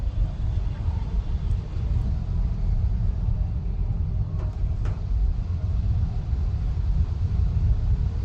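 A car drives slowly along a flooded Manila street after heavy rain, a low continuous engine rumble from inside the cabin with faint sloshing and occasional soft knocks.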